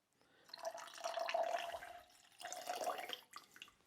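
Apple cider pours into a vessel for a reposado margarita cocktail in two short, quiet streams of trickling liquid, close up and with no voices.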